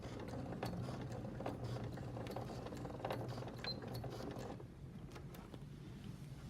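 A sewing machine slowly stitching a zipper bag, a quiet steady mechanical whir with a rhythmic ticking of the needle, easing slightly near the end.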